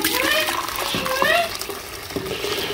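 Water runs and pours into a container for a rinse wash during gold recovery with nitric acid, a steady splashing flow throughout with some faint background voice.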